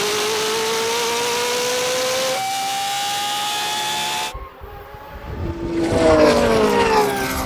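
A Koenigsegg Jesko, a Lamborghini Revuelto and a 1,000 hp BMW M3 accelerate hard in a third-gear roll-on drag race, their engines giving a loud sustained whine that rises steadily in pitch, then a brief drop and a fresh climbing roar.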